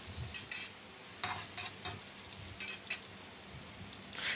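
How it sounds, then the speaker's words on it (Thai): Garlic sizzles and crackles steadily in hot oil in a pan, with scraping stirring strokes now and then, close and moderately quiet. "น้ำมันร้อนได้ที่แล้วก็ผัดกระเทียม ให้หอมเหลืองเลยครับ"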